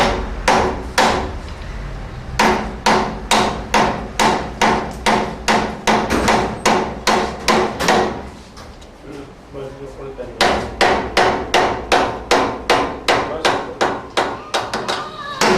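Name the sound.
hammer striking a screwdriver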